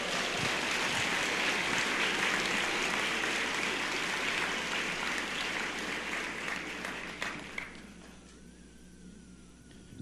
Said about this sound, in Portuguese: Aqueles que creem, aplaudam o Senhor Jesus